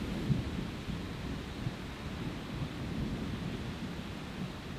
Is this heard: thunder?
yes